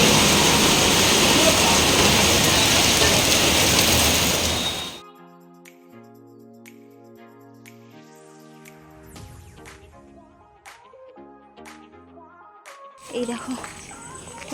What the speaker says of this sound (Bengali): কেমন বৃষ্টি হচ্ছে দেখেছো